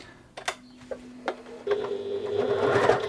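A Janome 1600P sewing machine starts with a few separate clicks and then runs up to full speed, a rapid mechanical whirr that grows steadily louder at close range.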